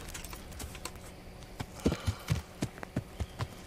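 Horse hooves clip-clop in an even rhythm in the video game Kingdom Come: Deliverance, starting faint and growing clearer, with a low background hum and no talking.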